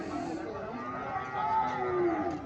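A Sahiwal cross bull calf at a cattle market in Comilla lets out a single long, drawn-out moo that swells toward the end, fairly close and heard without talk.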